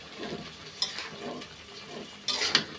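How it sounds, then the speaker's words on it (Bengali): Onions stirred in a frying pan while browning, a spoon scraping and clinking against the pan in a few short bursts over a soft sizzle, close and fairly quiet. "পেঁয়াজটা বাদামি কালার করব। দেখি এটার কি অবস্থা, এটা একটু নাড়া দিয়ে দিব"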